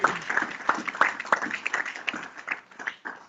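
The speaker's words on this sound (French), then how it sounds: "Acclamons très fort pour la gloire de Dieu" A church congregation applauding for the glory of God, a brisk round of many hands clapping with irregular sharp peaks that gradually thins toward the end, close and lively with a few voices mixed in.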